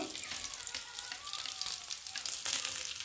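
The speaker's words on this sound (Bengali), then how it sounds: "আমি কাজু পেস্টটা একটু বেশি করে দিয়েছি একসাথে ভালো করে ঘেটে নেব" A cashew paste mixture sizzles and bubbles in a pan while a utensil stirs it, with a steady close hiss and occasional scraping clicks.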